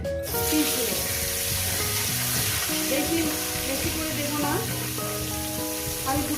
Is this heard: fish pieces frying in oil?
yes